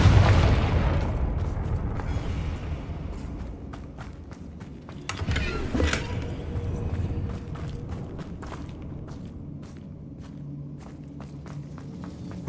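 A Confringo fire spell blasts in Hogwarts Legacy, a booming explosion that sounds up front and then decays into a rumbling tail, with scattered smaller impacts and crackles following.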